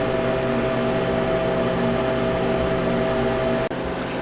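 A Harvest Right freeze dryer runs with a steady mechanical hum and faint tonal whine, close and constant, with one brief dip near the end.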